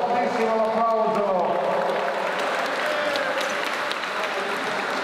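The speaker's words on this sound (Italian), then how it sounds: "fortissimo l'applauso" Loud, sustained applause from a crowd fills the arena after a professional boxing bout ends, steady clapping throughout with some cheering mixed in.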